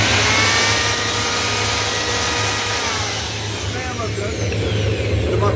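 A machine runs on the test rig of a 5 kW, 6 bar Pelton water turbine, giving a loud, steady, close whine and rush with a low hum beneath it that holds throughout.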